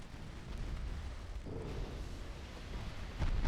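Torpedo magazine of a Soviet warship detonating in a naval combat game: a loud, sustained explosive roar with dense low rumble that swells again near the end.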